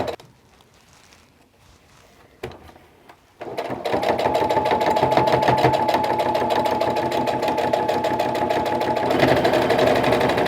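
A sewing machine stitches a fabric face mask with ties, starting after a few quiet seconds and then running steadily as a loud, continuous rapid mechanical whir until the end, with no talking over it.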